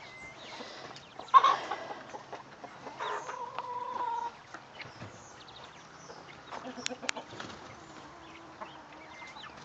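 A mother hen clucks on a backyard farm with soft, scattered calls and a few sharper squawks, close by, in a quiet outdoor setting with no one talking.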